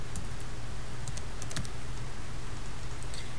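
A computer keyboard is typed on steadily while a folder name is entered on a desktop, giving soft, fairly rapid key clicks over a constant background hiss, with no talk.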